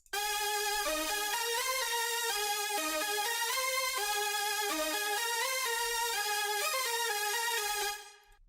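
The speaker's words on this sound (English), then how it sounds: "The second layer is a really big saw synth with some pitch LFO on it," A huge saw-wave synth lead carrying a melody, with a pitch LFO giving it a wobbling shimmer, bright and sustained through the whole phrase before cutting off at the end.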